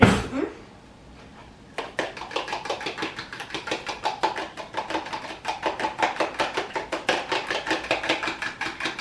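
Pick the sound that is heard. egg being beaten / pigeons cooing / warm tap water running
egg being beaten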